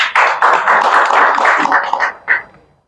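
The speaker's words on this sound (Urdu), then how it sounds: "تو ان کے لیے تو تالی بجنی چاہیے۔" Audience applause at a public gathering: a burst of many hands clapping, loud and close, holding steady for about two seconds, then thinning to a few final claps and fading out.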